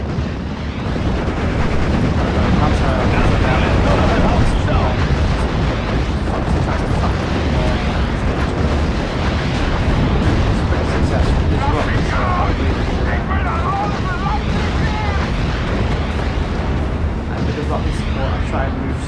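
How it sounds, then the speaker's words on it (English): Dense, continuous battlefield din from Steel Division: Normandy 44, with artillery fire rumbling and booming almost without pause in a loud, thick wall of explosions. "they're still firing a lot of artillery"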